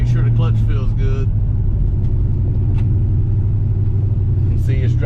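A 1997 Ford Mustang GT on a test drive gives a steady, close, deep engine rumble throughout, with brief voice sounds near the start and end.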